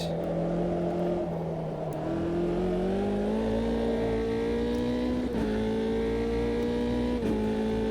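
A Euro Formula 3 single-seater accelerates at Estoril, its engine note climbing steadily with a couple of sharp upshifts, loud and continuous throughout.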